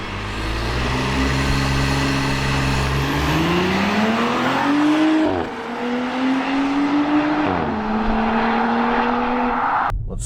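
An Audi, either a 2018 RS5 or SQ5 with a single turbo, accelerating hard from a standstill toward 60 mph. The engine's pitch climbs steadily through several distinct upshifts, each with a short dip, loud and close with a continuous roar and no talk.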